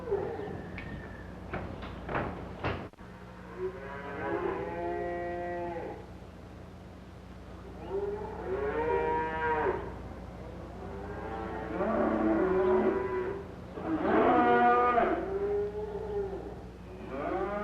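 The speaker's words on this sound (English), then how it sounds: "Tom, you did a swell job bringing those cows in" Shorthorn cattle mooing on a farm, several long, low, drawn-out moos repeating every few seconds, loud and close, with steady background noise.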